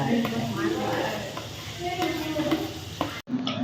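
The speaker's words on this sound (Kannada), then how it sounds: "ಎಣ್ಣೆ ಕಾದಿದೆ ಸೊ ನಾನಿವಾಗ ಆನಿಯನ್ ಹಾಕ್ತಾ ಇದ್ದೀನಿ ಲೋ ಫ್ಲೇಮಲ್ಲಿ ಇಟ್ಕೊಂಡು" Onions fry in hot oil on a low flame, a steady close sizzle with scraping stirs of a spoon in the pan, and a voice talks over it before a brief cut near the end.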